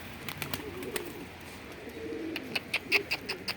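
Pigeons coo softly in a group, low repeated calls under sharper chirps and faint rustling, fairly close by with no speech.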